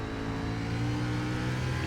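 An iRacing SRX race car engine at New Hampshire road course roars at a high, steady pitch, revving hard and continuously at full throttle throughout the short stretch, loud and close with no pauses.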